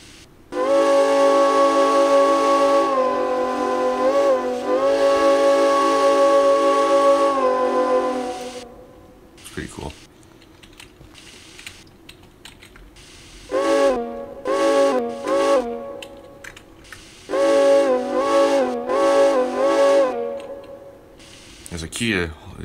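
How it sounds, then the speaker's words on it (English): A steam locomotive whistle in the video game Derail Valley blows in long, loud, close blasts, first one sustained blow, then several shorter toots after a pause with hissing and clicks. "Actually, we might as well hear the horn whistle."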